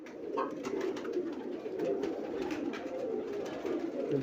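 Pigeons from a rooftop breeder pair coo in a steady, low murmur, moderately close and continuous, with no voices.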